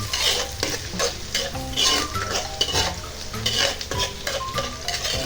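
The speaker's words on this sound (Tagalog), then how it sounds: "At kapag mainit na ang mantika, ilagay na ang bawang. Gisa natin siya hanggang siya ay mag-golden brown." Garlic sautés in hot oil until golden brown with a lively sizzle. Frequent scraping and clinking of a utensil against the pan come through as it is stirred continuously.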